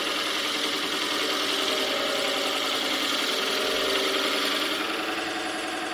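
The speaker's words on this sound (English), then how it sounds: "And we'll stop the lathe" A wood lathe runs steadily while napkin rings are turned with a Forstner bit, a close continuous motor hum and whir with a faint rattling texture, holding even throughout and unaccompanied by speech.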